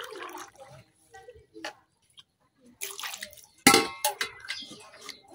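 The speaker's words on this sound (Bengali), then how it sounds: "এখন একটু পানি দিয়ে নেম।" Water is poured into a karai holding washed radish for steaming, giving a few scattered splashes and a louder rushing pour near the end, with quiet gaps between.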